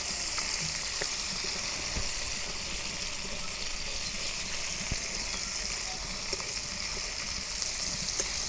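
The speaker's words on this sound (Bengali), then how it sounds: "মাছ ভাজা হচ্ছে" Fish frying in oil in a pan for a Ramadan iftar meal, a dense, even sizzle that stays close and steady throughout, with a few faint clinks and no talking.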